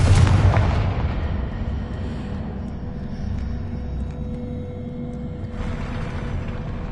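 A Confringo fire spell from the Hogwarts video game bursts with a loud booming blast at the start, then its rumbling roar trails off under a steady low background for several seconds.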